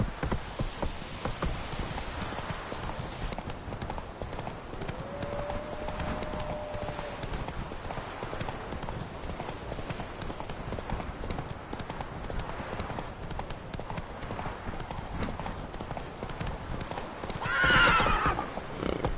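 A horse galloping in The Witcher 3, hooves pounding in a rapid continuous clip-clop rhythm close by amid rain-like hiss, with a neigh rising briefly near the end.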